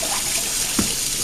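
Water runs steadily into a pressure cooker holding rinsed rice for Cuban-style rice and black beans, a continuous close splashing stream with one brief bump partway through.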